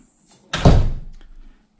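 Door pulled shut by an Ace Hardware door closer after its closing speed was adjusted, a soft swish followed by one solid thunk and a short rattle as it settles, close and alone.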